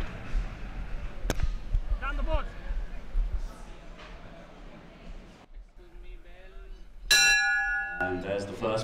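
At a Melbourne Cup polo match, a bell rings out to mark the end of a chukka. Its bright, sharp strike comes late in the clip, cutting through a commentator's continuous talk and the sounds of play.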